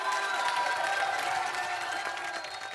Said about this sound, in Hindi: जोरदार ताली हो गई